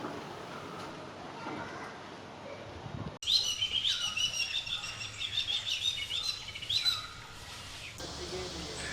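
Noisy family group of yellow-billed babblers calling near a hotel balcony in Kandy, Sri Lanka, a dense burst of overlapping chirps and chatter starting suddenly and running for several seconds over soft background hum.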